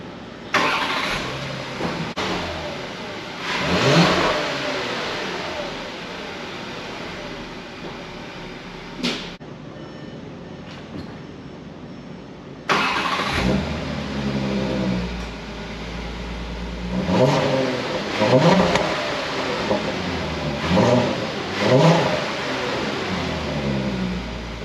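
A 2020 Volkswagen Atlas Cross Sport with a 3.6L engine and its mid muffler deleted starts and revs in several bursts, loud and close, with a short quiet gap before the engine fires again and revs repeatedly.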